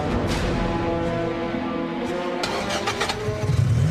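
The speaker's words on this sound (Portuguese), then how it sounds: "O carro pegou." A car engine starts: a grinding crank followed by the motor catching and revving up, loud and close, with no talk.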